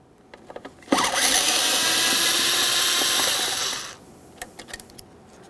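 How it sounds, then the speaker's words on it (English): A power tool whirs steadily for about three seconds while a Phillips head screw is removed from a door jamb switch on a 1994-1999 Honda Accord, framed by faint clicks and handling taps. "Remove the Phillips head screw."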